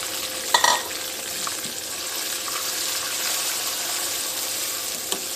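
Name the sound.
tomato puree frying with spices in pan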